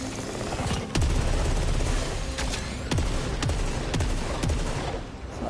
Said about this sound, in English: Eruptor hand cannon. What's this do?